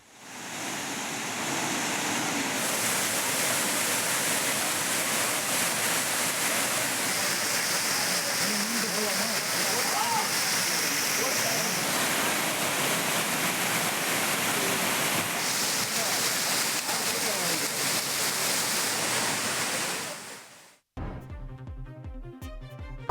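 A broad, steady roar of water crashing at Courtallam falls while tourists bathe, loud and continuous throughout, cut off abruptly near the end by a short burst of music.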